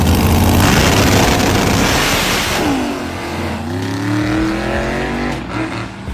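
Loud drag racing car engines roar and rev up close, with whining pitch sweeps as radial tires spin, over a constant heavy rumble.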